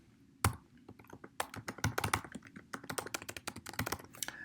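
Fingers type a login email on a computer keyboard, producing a rapid, uneven stream of crisp keystroke clicks with a few louder taps, close and alone.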